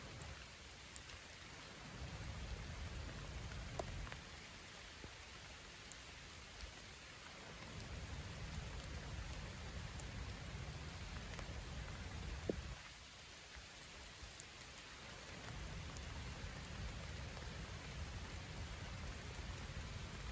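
Heavy rain keeps up a steady hiss on surfaces throughout, while low rumbles of distant thunder swell and fade several times beneath it.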